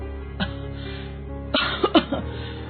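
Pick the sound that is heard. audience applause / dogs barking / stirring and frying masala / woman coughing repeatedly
woman coughing repeatedly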